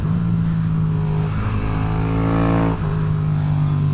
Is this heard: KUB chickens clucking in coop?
no